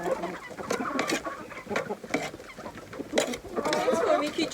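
Chickens clucking and scratching as they are fed on a cold day at a home yard, several birds close by with busy overlapping clucks and pecking patter, a voice speaking briefly over them.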